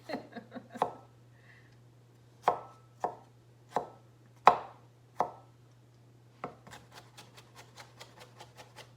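A knife mincing a guacamole ingredient on a cutting board, leaving a series of sharp chops that start sparse and irregular and then speed up into a quick, steady run of lighter taps near the end.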